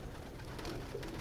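Pigeons cooing softly in a breeder's loft, a faint, low burbling coo or two over quiet background hiss.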